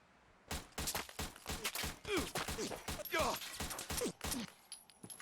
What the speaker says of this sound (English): He's already shot at us.